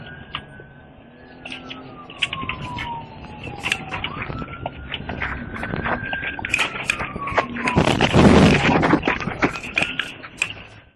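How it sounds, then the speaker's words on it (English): A police car siren wails close by during a high-speed pursuit on a state road, its tone sweeping up and down over steady road and engine noise, swelling louder near the end. "Emergency lights and sirens were activated"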